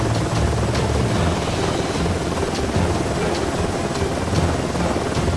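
Cartoon rescue helicopter flying over mountains through heavy rain, a steady loud rotor drone blended with dense rainfall noise throughout, no speech.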